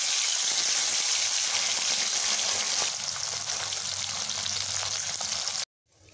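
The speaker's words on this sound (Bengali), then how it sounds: "তেল আমার গরম হয়ে গেছে, আমি এই মাছগুলোকে এখন এখানে ছাড়ছি।" Small river fish frying in hot oil, a loud dense continuous sizzle that settles slightly halfway through and cuts off abruptly near the end, with no talk.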